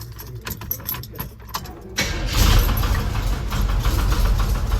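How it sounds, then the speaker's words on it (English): A 1984 GMC Syclone truck engine with a rod knock starts up after a few light clicks and settles into a loud, rough running drone close by. "I'll just hear what the rod knock sounds like."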